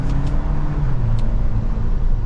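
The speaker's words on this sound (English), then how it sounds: "Do another acceleration, doing the manual mode, you can actually shift with the stalk on the center." A 2024 Toyota Land Cruiser First Edition accelerating in manual mode, shifted with the center stalk: a steady, loud low engine rumble from inside the cabin, with the drone shifting slightly in pitch partway through and no talking.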